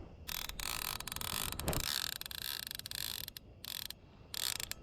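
A fishing reel's drag, cranked tight to 15 pounds, ratchets out in rapid clicking bursts as a big fish pulls line from a public shoreline; the clicking comes in several quick runs, fairly quiet and close.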